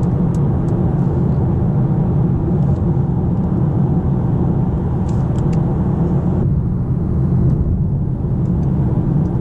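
A Mercedes A-Class cruises on the motorway, a steady broadband road and engine rumble heard from inside the cabin, loud and unbroken with only slight changes in tone.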